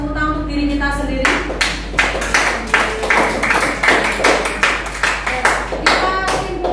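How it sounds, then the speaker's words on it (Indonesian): A class of students claps for themselves at the end of a lesson, a brisk patter of many hands that starts after a voice speaks briefly and carries on steadily to the end. "Sebelumnya kita beri tepuk tangan untuk diri kita sendiri."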